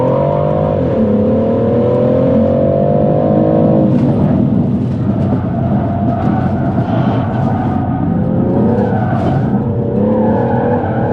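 A car being drifted by a racing driver revs hard with long, loud tire squeals and skidding throughout, the engine pitch rising and falling with throttle changes, heard from inside the cabin.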